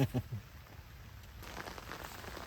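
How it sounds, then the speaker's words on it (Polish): Steady soft patter of rain falling outdoors beside a fishing spot, constant and moderate across the scene, with a few low thumps at the start. "zaczyna coraz bardziej padać"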